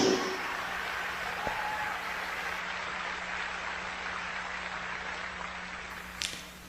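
An audience at a Christian conference applauds in a broad, steady wash of clapping that holds at an even level throughout, with a brief sharp sound near the end.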